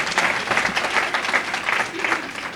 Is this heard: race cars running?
no